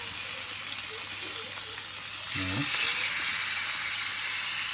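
Pieces of fish frying in a pan on a stove, a steady broadband sizzle running throughout with a brief clatter midway, no one speaking.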